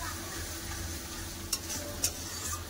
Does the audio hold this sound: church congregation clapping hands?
no